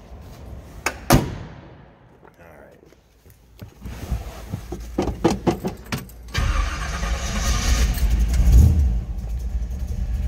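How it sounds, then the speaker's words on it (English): A 1964 Chevrolet Bel Air wagon cranks and fires on a cold start, preceded by a few clicks and knocks, then settles into a loud, steady rumbling idle close by. "That is a cold start."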